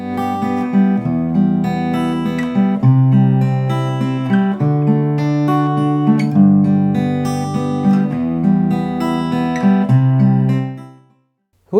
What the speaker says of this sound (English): What you just heard there was an example of a waltzy 3/4 fingerstyle pattern.